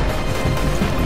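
Incoming artillery fire in the military shooter Project Reality, a loud, dense crashing impact burst filling the whole short moment.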